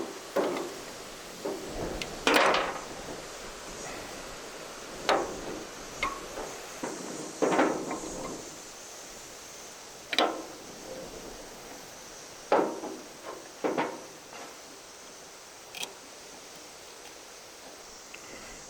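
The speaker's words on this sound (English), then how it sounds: "I'm going to go ahead and get these brake pads, this last one, removed out of this caliper" Brake pads are worked out of a Mazda B2200 brake caliper, producing scattered close metallic clicks, knocks and scrapes at irregular intervals over a quiet background.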